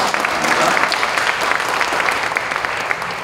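A church congregation at the opening worship service of a Methodist general assembly gives a sustained round of applause. The clapping is steady and dense, with no break, filling the hall.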